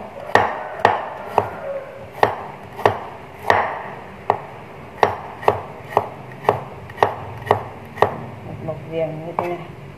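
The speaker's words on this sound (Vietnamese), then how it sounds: "Các bạn thái cho mình một giềng. Mình dùng giềng non như thế này ạ" Young galangal sliced with a knife on a cutting board, a steady series of about twenty crisp, close chopping strikes at a brisk, slightly uneven rhythm, with faint kitchen sounds between.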